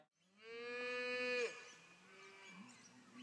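Cow mooing alone, one long drawn-out moo that rises and swells for over a second before breaking off, followed by a softer, lower trailing call; close and clear with no talk.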